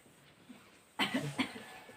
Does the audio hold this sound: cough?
yes